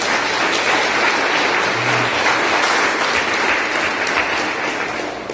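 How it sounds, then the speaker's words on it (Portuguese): Steady, loud applause from a church congregation during a worship service, a dense wash of clapping that holds throughout and tapers slightly at the end, with no voices on top. "Um aplauso para o Daniel"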